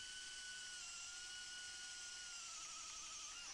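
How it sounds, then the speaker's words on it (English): An Excel 18V brushless combi drill with a 10mm bit whines steadily at its lowest speed setting boring into softwood, a thin motor tone with a faint rising pitch near the end, no voices. "here I've got a 10mm drill bit, starting off on the number 1 setting"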